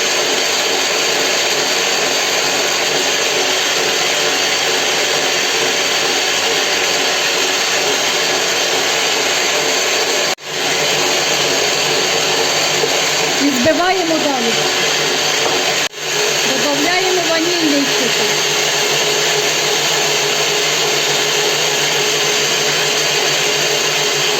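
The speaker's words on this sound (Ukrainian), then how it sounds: "і збиваємо до рехлого снігу" Electric mixer whipping egg whites with a pinch of salt and gradually added sugar to soft peaks for an apple soufflé cake, a steady loud whirring hum that runs throughout with a couple of brief dips.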